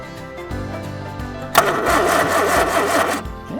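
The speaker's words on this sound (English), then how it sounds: "Okay, just try cranking that a little bit." Classic Mini engine being cranked over, a steady churning starter rhythm that bursts louder and brighter partway through and keeps turning for over a second before easing off, close and without talk.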